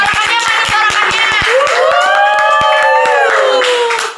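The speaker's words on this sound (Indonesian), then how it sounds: "Tepuk tangan dong, tepuk tangan dong." Rhythmic clapping with cheering voices rings loud and close throughout, with a sustained whooping cry rising over steady hand claps.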